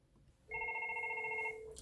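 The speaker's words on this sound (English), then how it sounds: "So we see the call ringing in" A FortiFone IP desk phone rings for an incoming call, one clean electronic tone lasting about a second, clear and close in a quiet room.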